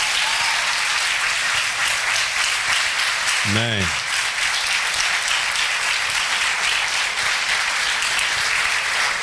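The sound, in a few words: congregation applauding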